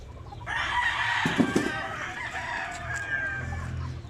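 Chickens, some sick, cluck and call nearby, a rooster-like crow rising over a noisy farmyard background, with a brief thump in the middle.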